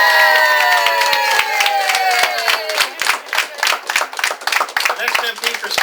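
A crowd claps at a campaign office opening in Toronto. Sharp, scattered claps build into a lively, uneven patter of many hands, close and fairly loud, with voices in the room.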